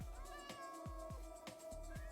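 A Minecraft cat meows repeatedly in the game, short rising and falling mews coming about every half second in a steady run over a continuous background tone, close and clear with no speech.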